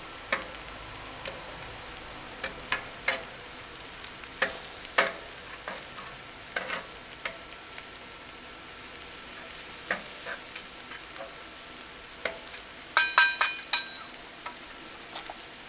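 Steak sizzles on a 360 XL griddle for a steak-and-cheese sandwich, a constant fry hiss with intermittent sharp scraping and tapping of a spatula against the metal surface, close and without speech.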